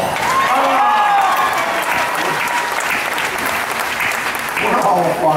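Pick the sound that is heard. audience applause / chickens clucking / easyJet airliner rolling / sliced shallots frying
audience applause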